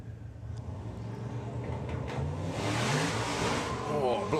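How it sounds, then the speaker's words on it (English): A drag racing car at the FIA Main Event spinning its tyres on launch, engine building from a rumble into a louder roar with tyre noise, heard under commentary. "Oh, blazes the tyres there."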